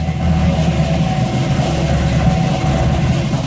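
A Corvette Z06 on stock mufflers idles loud and close, a steady low engine drone with an even rumble and no voices.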